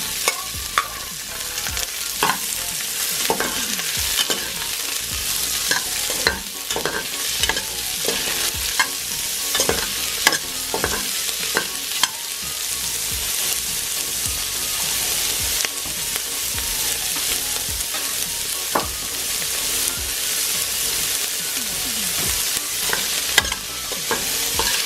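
Beef and white onion sautéing in a pan for beef mami, a continuous sizzle broken by frequent scraping and clacking stirs, close and busy throughout.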